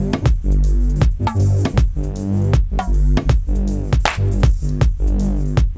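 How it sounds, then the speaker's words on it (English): A synth bass in Ableton is chopped by a Gate in flip mode sidechained to drums, so it sounds only between the beats and gives a steady, pumping stop-start rhythm with sharp cuts, loud and up close. "when you hit flip, what will happen is the bass will now only happen when the drums aren't happening"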